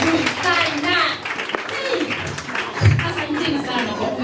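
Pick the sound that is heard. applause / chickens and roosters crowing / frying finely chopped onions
applause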